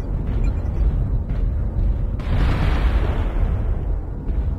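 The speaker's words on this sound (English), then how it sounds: "Warning incoming missile." Rumbling explosions roll through a MechWarrior Online battle as incoming missiles strike, a steady low roar with a sharper, louder blast swelling midway, and no talking.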